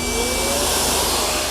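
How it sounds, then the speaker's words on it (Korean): A large vacuum cleaner, about 2 kg, runs off a camper van's lithium iron phosphate battery through an inverter in a Mercedes GLK, giving a loud, steady motor whine with a constant airflow roar throughout. "청소기 잘 돌아가고 있죠?"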